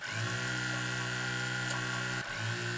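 Steady, close whirring drone of a sewing machine running continuously as it stitches a quilt block seam for a stuffed potato chip quilt pattern, with a brief pause near the end before the motor resumes, no speech.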